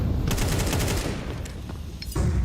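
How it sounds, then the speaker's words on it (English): AK rifle fire in a Counter-Strike match, rapid automatic bursts crackling near and loud in quick succession, then a brief lull before another sharp report at the end. "Donk on the AK."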